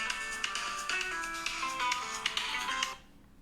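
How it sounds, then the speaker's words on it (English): A phone rings with a repeating electronic ringtone melody, bright tonal pulses in a steady pattern that cut off near the end, with no talking over it. "oh my goodness, that's my phone."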